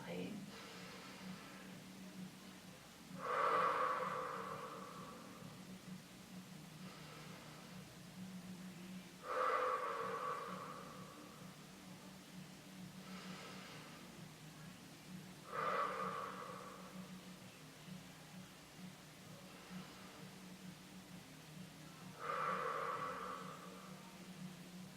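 Slow, deep breaths during a breathing exercise, with four long airy exhalations spaced several seconds apart. Each one swells and fades against a quiet background hum.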